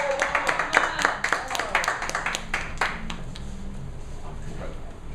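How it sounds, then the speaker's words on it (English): An open mic poetry audience gives applause, with scattered clapping that is loudest at the start and thins out over several seconds, mixed with voices. "Okay, next up, would you please give a round of applause for Bob Mudd?"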